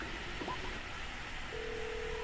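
Phone dialing in the video game GTA V: a short electronic beep and a sustained dialing tone sound faintly over steady background noise.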